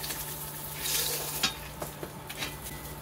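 A hilsa fish head frying in a pan of oil, with a steady crackling sizzle and a few sharper pops and scrapes close by, no voices.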